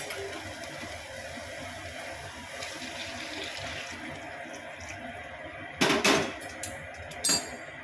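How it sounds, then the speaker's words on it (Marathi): Hot water is poured into a pan of cooking stuffed brinjal curry, a steady low trickle and hiss for several seconds, followed by a few sharp clattering knocks of a utensil near the end. "त्यामध्ये आता आपण गरम पाणी ॲड करून घेणार आहोत."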